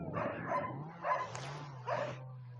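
A dog in a village yard gives three short barks spaced about a second apart, fairly close, over a steady low hum, with no talk.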